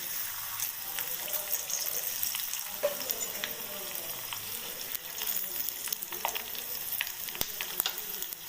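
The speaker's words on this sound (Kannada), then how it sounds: "ಬೆಳ್ಳುಳ್ಳಿ ಮೀಡಿಯಮ್ ಬ್ರೌನ್ ಆಗಿ ಬರ್ತದೆ" Garlic frying in a pan until medium brown, a continuous close sizzle and crackle with small stirring clicks, no voices.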